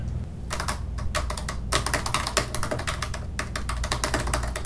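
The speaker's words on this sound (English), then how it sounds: "Prepare your fingers for the keyboard." Rapid, steady clicking of fingers typing on a computer keyboard, with dense irregular keystrokes running throughout at a close, even level and no talk.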